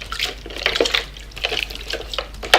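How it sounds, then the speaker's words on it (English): Running tap water splashes over hands being washed at a sink, a close, irregular patter of drips and splashes with short louder bursts and no talking. "I prefer washing with water"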